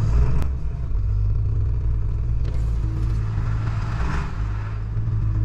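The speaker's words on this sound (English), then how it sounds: "Hey, she's still idling so far." A 7.3 Powerstroke diesel truck engine idles steadily with a deep, continuous low rumble and light clatter, close and loud, with no one talking.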